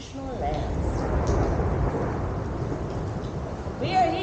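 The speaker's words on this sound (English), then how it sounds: "We are here during a thunderstorm, getting some mood" A thunderstorm rolls over Banff National Park, with a low continuous rumble of thunder and rain filling the air at a fairly even level, and a voice briefly audible near the end.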